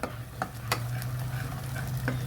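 Mee rebus paste simmering and sizzling in hot oil in a pan, a soft continuous crackle with a few light scraping stirs, quiet and close.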